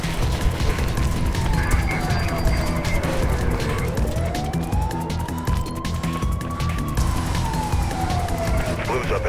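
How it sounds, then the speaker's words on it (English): A police siren wails in the video game Mirror's Edge, its tone sweeping slowly down and up over a busy game soundscape of crashes and impacts, loud and continuous, with a voice talking over it. "what I'm hearing right now is sirens and people shooting at me"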